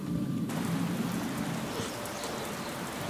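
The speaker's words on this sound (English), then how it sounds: "Then the rain began." Steady rain falling as a storm starts, a dense, even hiss of drops on surfaces that swells in after a brief quieter moment and holds loud without pause.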